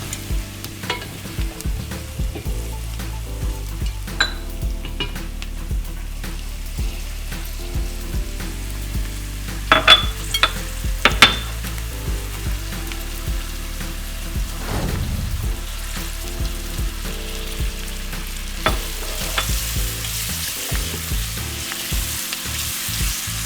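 Onions and peppers with spices frying in a pan for South African chakalaka, a steady close sizzle running throughout with scraping stirs and a few sharper clinks of the utensil, no talking.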